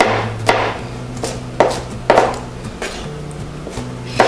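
Fresh yellow fruit for white sangria is chopped on a board in a series of sharp knife knocks at an uneven pace, close and fairly loud, with no voices.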